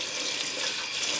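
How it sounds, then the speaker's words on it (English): Hot water runs from a kitchen tap into an emptied cat food can, a steady splashing stream heard up close for about a second with no talking. "Alright, then I add hot water."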